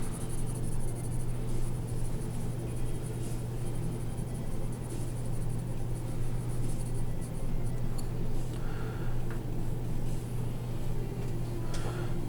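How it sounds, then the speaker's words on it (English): An H pencil shades paper in even unidirectional strokes, a faint continuous scratchy rasp heard close up over a low steady background hum, with no talking. "Shade everything that's kind of got even a little bit of darkness to it with the H pencil."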